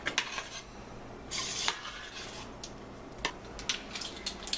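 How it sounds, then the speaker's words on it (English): Stirring a cricket-meat sauce in a pan with oregano leaves: faint scraping and clinking of a utensil against the pan, in short irregular bursts, fairly quiet and close, with no talking. "Stir that up."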